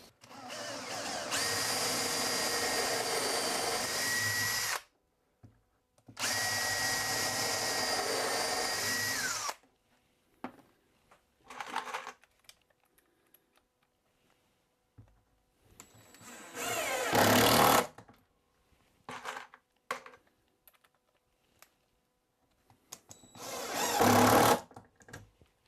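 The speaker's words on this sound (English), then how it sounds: "So I can now put 2 screws in here and make sure they're dead on." A power drill drives screws through plywood into a cabinet nailer, with two long, loud, steady whirring runs followed by shorter bursts and brief pauses, all close up and without speech.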